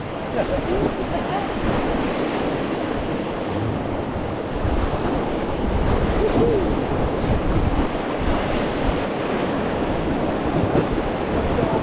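Whitewater rapids on the Sunwapta River roar in a continuous broadband rush, heard from on the water with gusting wind buffeting the microphone and no clear talking.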